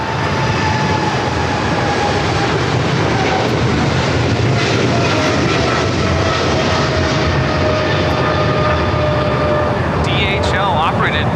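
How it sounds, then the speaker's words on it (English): A Polar Air Cargo Boeing 777 freighter flying for DHL takes off from LAX, its engines producing a loud, sustained roar with steady whining tones, while a voice speaks over it. "DHL operated by Polar Air Cargo 992 taking off to Cincinnati on the 777 freighter"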